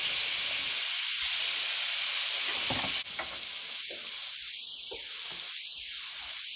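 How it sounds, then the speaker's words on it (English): Food sears in a hot pan with a loud, steady, close sizzle and hiss, the crackle shifting slightly as pieces are moved around. "these are gonna just take just a few minutes total to pan sear"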